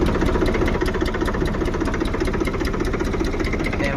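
A farm tractor's engine runs steadily at idle, a rapid, even mechanical chugging with a knocking edge, close by and alone without voices.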